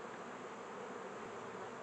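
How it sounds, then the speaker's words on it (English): Bees humming steadily around about twenty hives in a forest bee yard, a dense even drone that holds constant throughout, soft and without voices. "I'm in my forest bee yard, about 20 hives here."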